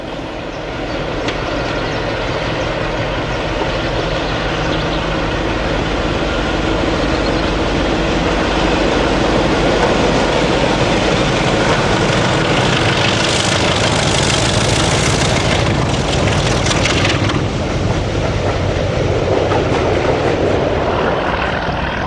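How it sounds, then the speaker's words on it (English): Two diesel locomotives, 33053 and 33019, depart Shackerstone station, a heavy sustained engine roar that holds loud and steady throughout, swelling slightly in the middle. "A visiting 33053 and a resident 33019 depart from Shackerstone in 2007."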